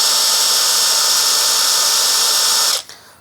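A Dongcheng DCPB298 impact wrench rated at 300 Nm runs at low speed with a loud, steady, close high-pitched whine that cuts off abruptly near the end and winds down.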